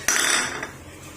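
A metal cooking pot with water and ginger set down on a stove, one sharp close clank with a brief ringing metallic tail.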